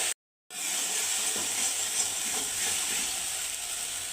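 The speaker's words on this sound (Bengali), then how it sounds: "পেঁয়াজ পেস্ট করা এটাকে কিন্তু আমি কিছুক্ষণ একটু কালার আসা পর্যন্ত ভেজে নেব" Onion paste with green chilli and ginger frying in a pan for a prawn malaikari, giving a loud, steady close-up sizzle and hiss that starts suddenly after a brief silence and carries on unbroken.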